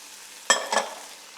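Two quick bursts of sizzling as onion and mixed herbs are stirred in a hot pan for spaghetti bolognese, then a fading hiss.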